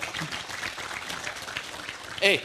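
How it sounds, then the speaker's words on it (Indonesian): An audience claps continuously in a dense, steady patter of applause, with a brief whistle or cheer rising near the end. "Tepuk tangan untuk mereka."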